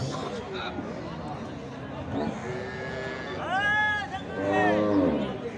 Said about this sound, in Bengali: এই যে দেখছেন বেশ বড় সড় সাইজের এই গাভি গরুটি